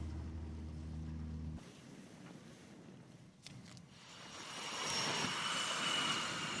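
F/A-18 Super Hornet fighter jets launch from the aircraft carrier USS Abraham Lincoln, a low engine drone giving way to a rising, hissing jet roar that swells and holds loud near the end.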